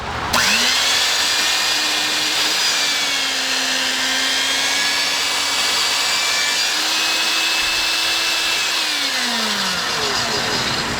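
An old Rival electric meat slicer whirs steadily while cutting thin slices of roast beef, a loud close motor hum with a rising pitch at start-up and a falling pitch as it winds down near the end.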